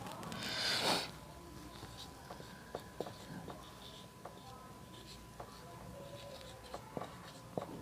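Chalk or marker writing on a classroom board during a Hindi biology lesson on blood, a burst of scratchy strokes at the start followed by quieter intermittent taps and squeaks against a steady hum, with no talk.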